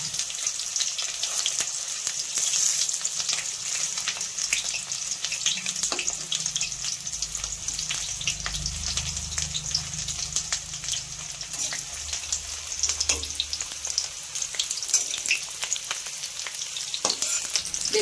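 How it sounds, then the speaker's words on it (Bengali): Teasel gourd pieces sizzling in mustard oil, a continuous soft crackle with occasional pops and sporadic turning sounds, no voices. "উল্টা দিকটাও ভেজে নেব"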